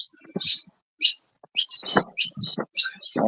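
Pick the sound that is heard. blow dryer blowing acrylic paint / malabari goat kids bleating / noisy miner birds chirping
noisy miner birds chirping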